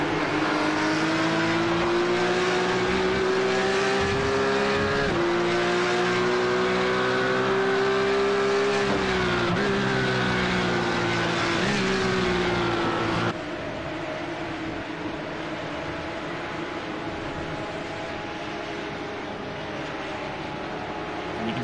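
Porsche race cars racing through the Tosa corner and uphill at the Imola circuit during a qualifying round: loud, sustained engine roar with rising revs and gear shifts, then a steadier, slightly softer drone as the cars pull away.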